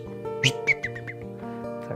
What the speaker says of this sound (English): a great crested flycatcher, also known as the Elvis bird